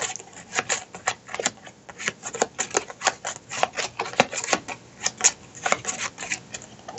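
Playing cards from a DOOM board game (2016) initiative deck being shuffled by hand, a steady run of quick papery riffles and flicks at close range on a tabletop, continuing alone for several seconds.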